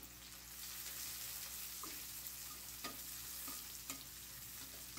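Ground coriander and cumin powder tempering in hot oil for a special dal, giving a steady broadband sizzle with a few light clicks of stirring, close and fairly quiet, with no talking.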